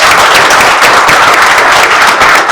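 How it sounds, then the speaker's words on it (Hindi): A live audience claps loudly and continuously at a zero-oil cooking event for a healthier lifestyle, dense, close and steady applause with no talk over it. "एक बार उनके लिए जबरदस्त तालियां"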